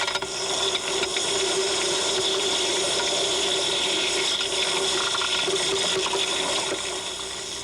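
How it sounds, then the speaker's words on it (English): Lava from the Kilauea eruption pops and crackles underwater, recorded by scuba divers around 25 feet deep: a loud, continuous hissing wash dense with sharp clicks and pops, with a steady tonal hum underneath. "Geologists say the popping is caused by the water cooling the hot skin of the lava and making it contract."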